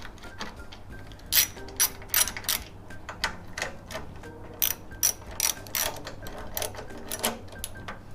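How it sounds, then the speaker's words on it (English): Ratchet clicking in short bursts while removing 12 mm bolts on a Yamaha V Star 1100 motorcycle during a valve adjustment, close and crisp, with pauses between strokes. "Then remove this 2 bolts using a 12 mm."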